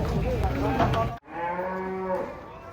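A very large cow moos loudly twice near a truck unloading cattle, long drawn-out lowing calls with a brief break between them, close by.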